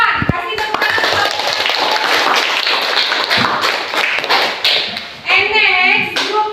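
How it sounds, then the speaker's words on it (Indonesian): A classroom of students claps for a student group after a presentation, dense lively applause with scattered taps and thumps, children's voices mixed in, fading to talk near the end. "give applause to group 1"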